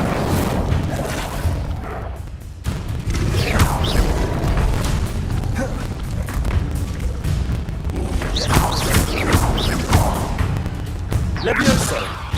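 Fiery spell blasts from the Incendio fire charm in the video game Hogwarts Legacy, repeated booming whooshes and thuds over a dense layer of game effects, with a voice shouting throughout.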